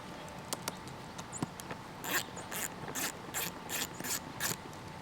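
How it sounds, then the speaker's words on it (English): Bolts are backed fully out of a Honda Pioneer seat with a ratchet, giving a series of quick, close metallic ratcheting bursts in a steady rhythm after a few isolated clicks, with no talk. "Take your bolts completely out."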